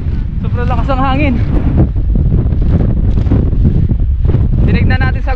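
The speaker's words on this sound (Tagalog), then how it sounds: "Sobrang lakas ng hangin." Strong wind on a beach, blowing sand, buffets the microphone with a loud, constant roar while people talk beneath the gusts.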